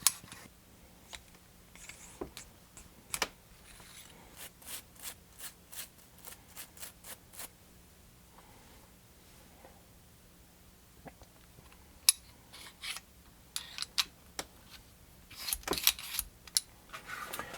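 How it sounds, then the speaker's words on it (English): Small metal parts of a KelTec PMR 30 .22 Magnum pistol click, clack and rub together in scattered bursts during takedown and cleaning, close up, with quiet pauses between and no voices. "I'm going to take it back apart again, make sure there's no barrel obstructions in there from the factory, and get it cleaned up, lubed up"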